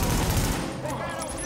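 An automated turret fires in a rapid burst during a co-op shootout in The Division, with dense, loud staccato shots that thin out over a moment amid other game noise.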